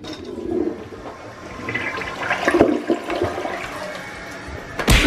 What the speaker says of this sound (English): flush it down the toilet